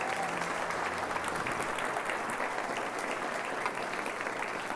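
A church congregation claps together in sustained, dense applause during a service, a loud, even wash of many hands that carries on without pause from start to finish.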